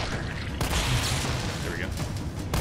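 Video game gunfire is aimed at a generator, a steady stream of rapid shots blending into a dense, loud clatter with a voice murmuring underneath.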